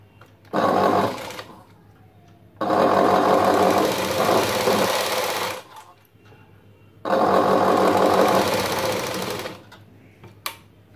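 A sewing machine stitching a blouse runs in three loud, close bursts of fast whirring, separated by short quiet pauses, with no talking.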